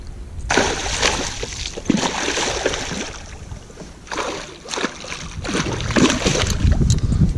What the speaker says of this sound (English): That's the splashing we miss in the winter